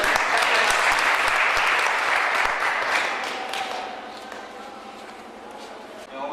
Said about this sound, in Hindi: आप जोरदार तालियां